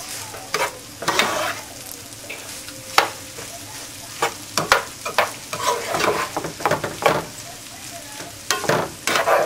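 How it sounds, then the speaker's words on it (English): Rice for arroz con gandules sizzles steadily as it fries in a hot pan before steaming, while a utensil scrapes and stirs in irregular, clattering strokes throughout. "Frying the rice before you steam it"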